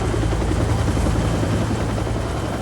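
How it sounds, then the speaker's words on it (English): A Los Angeles County Fire Department rescue helicopter arrives with a loud, steady, close rotor thumping and engine roar that fills the whole stretch without pause. "A rescue helicopter from the Los Angeles County Fire Department arrived within 12 minutes."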